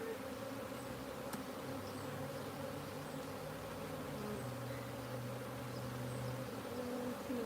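A dense, steady drone of honeybees buzzing from an opened hive box of a caught swarm, close and continuous with no talking.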